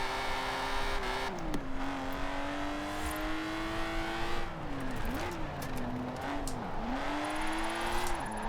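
A car in Forza Horizon 4 heading downhill while the driver tries to make it oversteer, its engine note steady and loud throughout, sliding down and climbing back in pitch several times as the revs shift.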